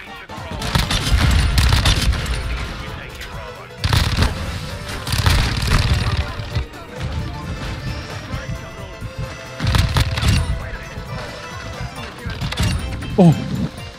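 Bursts of SMG gunfire in a Call of Duty match on the Shipment map, loud rapid volleys in several long stretches with short pauses between, under a player's talk.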